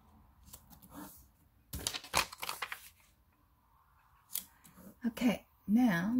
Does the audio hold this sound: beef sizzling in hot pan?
no